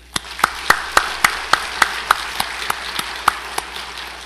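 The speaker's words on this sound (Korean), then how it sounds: "우리 수고하신 그분들께 박수 한번 보냅시다." Congregation at Gudeok Church clapping during a Sunday sermon, heard as a steady, evenly spaced run of about fourteen sharp claps at a moderate, rhythmic pace, close and fairly loud, with no talking over it.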